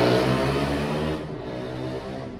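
A motorcycle exhaust revs loudly and close, then its throaty roar tails off into a lower, steadier drone.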